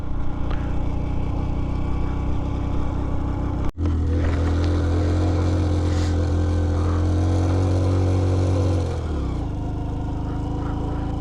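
A car engine labours hard climbing the high, snowy Khardung La pass in Ladakh, a loud, steady low drone that holds strong for most of the stretch, with a brief dropout near the start and a slight easing toward the end.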